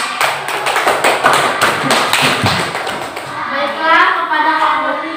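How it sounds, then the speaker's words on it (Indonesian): Schoolchildren in a classroom clap their hands after a group presentation, rapid uneven claps in the first half fading into children's chatter and voices toward the end. "Beri tepuk tangan."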